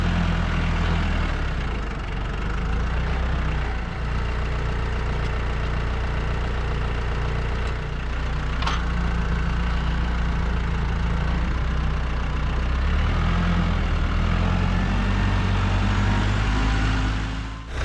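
A 50 hp tractor engine idles steadily at close range, a loud, even low rumble that holds unchanged throughout with no voices.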